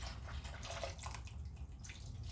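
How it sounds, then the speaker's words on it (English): Faint, steady splash of water being poured into a cooking pot, a soft continuous trickle close by with no talking. "okay, so I'm gonna pour this in here."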